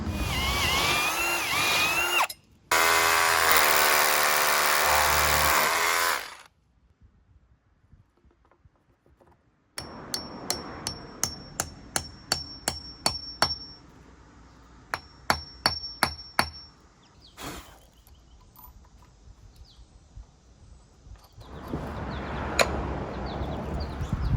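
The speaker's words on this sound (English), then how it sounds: "I'm gonna use my big rotary hammer to drill those holes" A big rotary hammer drills holes while a basement bulkhead door is replaced: a loud, sustained grinding burst at first, then silence, then a run of sharp rhythmic impacts and shorter bursts, and loud drilling again at the end.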